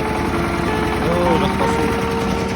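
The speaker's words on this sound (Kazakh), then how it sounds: "Трактормен осылай суға келеміз." A tractor engine runs steadily on a winter trip to fetch water, a loud close drone with a low throbbing pulse and faint whining tones, a voice talking over it.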